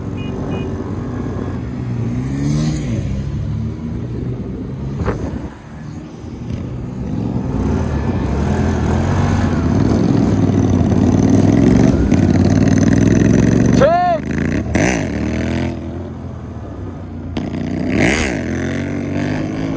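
A motorcycle engine held at full throttle, a loud sustained revving drone with rising and falling pitch sweeps, close to the microphone, with no talk over it.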